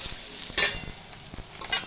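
Bitter gourd (uchhe) frying in oil, a close, even sizzle with a couple of brighter hissing swells as the pieces are stirred.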